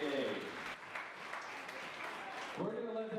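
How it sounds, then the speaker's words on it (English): Wedding reception guests applaud in a soft, fairly distant burst of clapping, with voices talking over it at the start and end. "Ladies and gentlemen, give them a round of applause."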